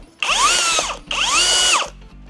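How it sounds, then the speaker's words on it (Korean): An Osung cordless rivet gun sets a 3.2 mm rivet in two close, loud motor bursts, each a rising and falling whir of about three-quarters of a second, followed by a mechanical click. "오성 충전 리벳건을 보여드렸습니다"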